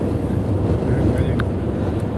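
Strong wind buffeting a microphone outdoors during a trip from Budapest to Nyíregyháza, with heavy low rumbling gusts and brief faint sounds over the top.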